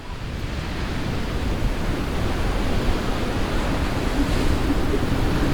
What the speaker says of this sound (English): we're going to type in ocean storm